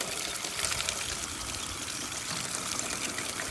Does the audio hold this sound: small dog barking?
no